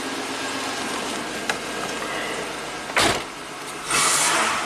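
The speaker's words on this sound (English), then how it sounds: "that's what a V6 should sound like and feel like." A V6 engine in a 1990 Buick Regal idles steadily up close, a smooth continuous hum with a short louder surge midway and a brief broadband burst near the end.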